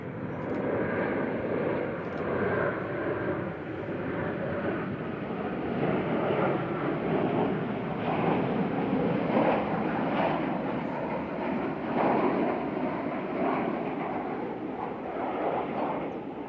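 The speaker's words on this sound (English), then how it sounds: "Ryanair 3186 from Madrid next, 9HQDO," A Ryanair Boeing 737-800 arriving from Madrid at Manchester Airport produces a steady, moderately distant jet engine roar that swells and fades slightly over several seconds, with wind in the background.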